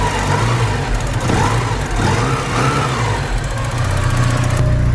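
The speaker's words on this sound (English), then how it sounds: "Good old turbocharged 4-cylinder engine." A turbocharged four-cylinder car engine with just over 100,000 miles, in immaculate condition, runs steadily and loudly up close, holding an even rumble for the whole stretch.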